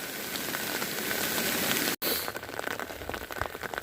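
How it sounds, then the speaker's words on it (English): Freezing rain pelts a hiking trail on the Appalachian Trail in winter, a steady, dense patter close by that runs without a break except for one brief dropout midway. "There's way too much freezing rain out here."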